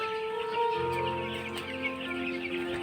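Day-six broiler chicks crowd together on a farm, giving off a busy chorus of high, overlapping peeps and chirps close by.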